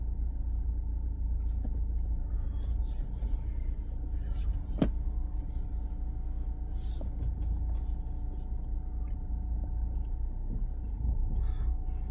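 A Mahindra Scorpio N petrol manual SUV on the move, heard as a low steady engine and road rumble inside the cabin, with a few faint clicks and knocks and no one talking.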